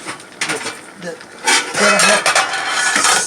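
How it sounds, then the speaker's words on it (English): A small lid is set over a pan of salmon cooking for a ginger-sauce dish, bringing a few close metallic clinks and scrapes over a steady sizzle-like hiss, with louder clatter in the second half. "we're going to put a small lid over top of this while this is cooking"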